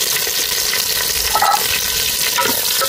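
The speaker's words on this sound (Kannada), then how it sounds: "ಅಂಚೆನೆ ನೀರುಳ್ಳಿ ಪಾಡ್ಗ ಒಟ್ಟಿಗೆ ಕಾಯಾಡು" Mustard seeds and onion frying together in a hot pan, a loud, steady sizzle with crackling and occasional stirring scrapes, close up and continuous.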